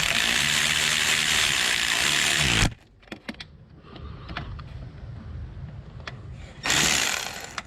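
Hand ratchet snugging two bolts on a purge solenoid of a 2007 Honda Odyssey: a few quick sharp clicks in bursts, close, framed by louder broadband noise at start and end, no talk.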